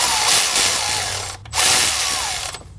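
Power tool driving in two bolts on a thermostat housing of a 2011-2016 Kia Optima 2.4L four-cylinder, two close, loud whirring bursts of about a second each separated by a brief pause, with no talk.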